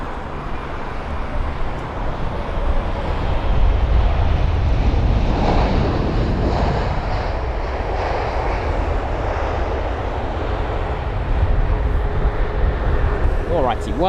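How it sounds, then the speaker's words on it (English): An Avianca Boeing 787-8 Dreamliner arriving at London Heathrow from Bogota, a sustained loud engine roar with wind buffeting, steady throughout and swelling slightly near the end. "the arrival of the Avianca 7878 Dreamliner"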